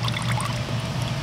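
Water trickles and splashes as it drains from a bag of soaked okra seeds into a bucket, a brief, close, steady dribble over a low background hum.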